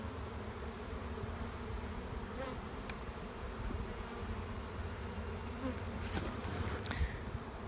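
Honey bees swarm around hives on a farm homestead, producing a dense, steady buzzing drone that fills the whole stretch without pause, with a few individual bees zipping closer at moments.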